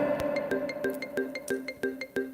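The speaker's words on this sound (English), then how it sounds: "that noise you're hearing is what happens when somebody tries to call me when I'm online" An incoming call alert chimes on a computer during a live stream, a fast series of bright, evenly spaced electronic tones repeating without a break, alone with no talk.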